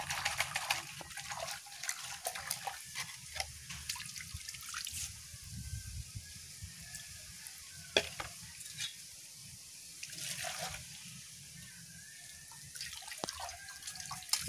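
Aloe vera leaves being washed under a running tap, a soft steady stream with splashes, drips and handling noises, fairly close and quiet.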